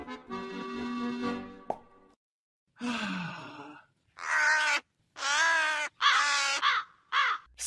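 Crows caw in a rapid series of harsh, loud calls near by, after a breathy sighing voice at the start.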